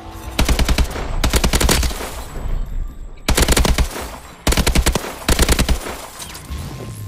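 Automatic gunfire at a firing range in the video game Call of Duty: Advanced Warfare, loud bursts of rapid shots in several rounds separated by brief pauses.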